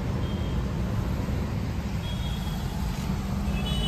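Road traffic around Mysuru, heard as a dense, continuous low rumble of passing vehicles that may include trucks and buses, close and steady throughout with no gaps.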